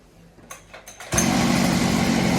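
A petrol brush cutter pulled into life: a few short cranking bursts, then the small two-stroke engine catches and runs at a steady, loud high-pitched drone.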